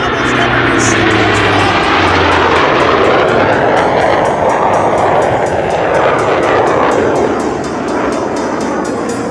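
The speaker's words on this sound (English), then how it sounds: "A next-gen jet in a whole different way, powered, aerobatic, leading American engineering." A next-generation aerobatic jet roars loudly overhead at the California Capital Airshow, a continuous powerful engine wash that sweeps past with a shifting pitch and stays loud throughout.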